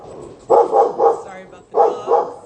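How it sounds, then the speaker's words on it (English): Several dogs bark in short, sharp bursts indoors as another dog passes outside, roughly five loud, nearby yips in two clusters with brief pauses between them. "Sorry about the dogs. They're saying hello to another dog walking by."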